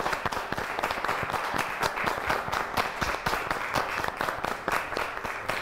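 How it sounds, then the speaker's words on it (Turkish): An audience claps for the women at a televised Turkish fashion competition show, a steady dense round of applause lasting several seconds without talk. "Çocuklar, tüm kadınlarımıza alkışlıyor muyuz?"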